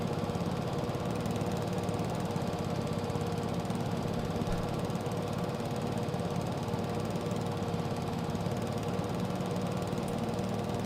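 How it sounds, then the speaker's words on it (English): A mower clears bushes in Farming Simulator 22. Its engine gives an unbroken, loud, steady droning rumble with a rough, knocking texture and no pauses. "Call this mower the bushwhacker, because it's getting all the bushes."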